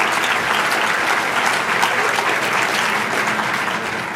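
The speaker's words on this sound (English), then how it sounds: "Would just give yourselves a round of applause" A roomful of people at a pro-life talk claps steadily in sustained applause, dense and even throughout with no voices over it.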